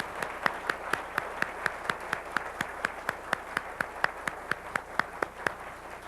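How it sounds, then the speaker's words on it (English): A single person claps slowly and evenly, about three to four claps per second, moderately close in a quiet hall at an IEEE millennium celebration honoring past presidents, with no crowd joining in. "let's have another round of applause for the past presidents"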